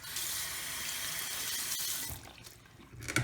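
A stainless steel tumbler rinsed under a running kitchen tap, a steady close rush of water for about two seconds, then the flow stops, leaving soft splashes and clatter.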